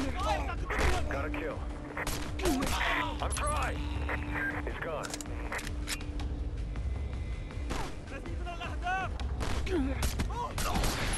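Gunfire in a Call of Duty survival mode match, with repeated sharp shots and bursts scattered throughout over a busy bed of game effects, loud and close, while a voice talks over parts of it.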